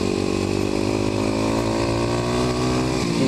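A Kawasaki KLX250SF supermoto motorcycle rides offroad on a forestry road, its single-cylinder engine droning loud and close with a steady buzzing tone that rises slightly in pitch, with wind rush around it.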